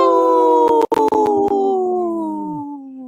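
A woman imitates a wolf howl, a single long, clear, wavering tone that slides down and fades out over about three seconds, close to the microphone, with a few brief clicks near the start.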